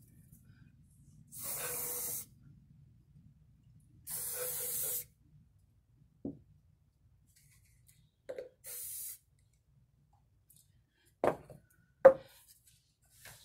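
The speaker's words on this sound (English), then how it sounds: "Here's some mold release spray," Silicone mold release spray hisses from an aerosol can in three short bursts, the first two longer and the last brief. A few soft knocks and clicks follow in an otherwise quiet room.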